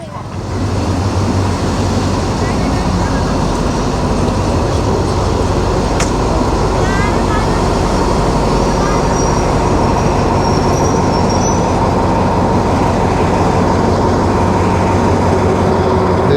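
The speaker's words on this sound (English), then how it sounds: "The train's just about to come" A train rolling across the Bridge over the River Kwai on the Death Railway in Kanchanaburi, a loud, steady, close rumble of wheels and carriages with brief squeals, continuous throughout.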